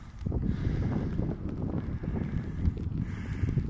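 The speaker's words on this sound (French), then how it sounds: "il y a un vent glacial" Icy wind in Finland buffets the microphone in a constant low roar, gusting unevenly with no voices.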